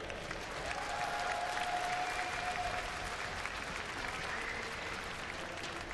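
Sustained applause from a large crowd at an esports grand final, steady and fairly distant, with cheering mixed into the wash of clapping throughout.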